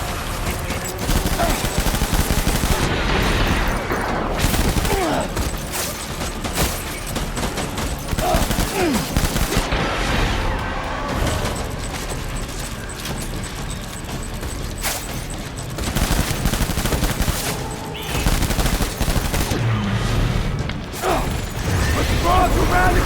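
Sustained automatic gunfire from a firefight in the video game Death Stranding, dense overlapping bursts and mechanical clatter running loud and continuous throughout.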